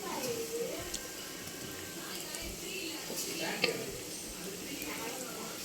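Gulab jamun dough balls fry gently in oil over low heat, a soft, continuous bubbling sizzle with occasional faint clinks of a pan, and a quiet voice faintly in the background.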